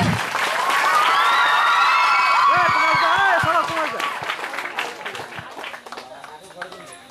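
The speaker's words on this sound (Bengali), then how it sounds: "জোরে হাততালি।" An audience at a coaching centre's cultural programme in Hooghly applauds loudly and steadily for several seconds, then the clapping fades as a voice carries on speaking over it.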